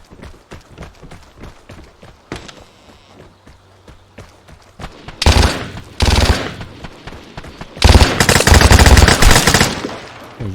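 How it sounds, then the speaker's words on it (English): Machine gun fire in the video game Vigor sounds in two loud sustained automatic bursts after quieter footsteps and movement, close and harsh, with no talking. "Next, this is the machine guns."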